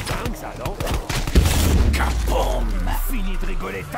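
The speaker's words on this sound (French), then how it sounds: "Avant d'entendre l'explosion." A loud explosion in the video game Classified (First Room, round 16, purist mode) booms amid ongoing gunfire-like clatter and mechanical noise, with a heavy low-end blast around the middle that sustains to the end; a voice talks over it.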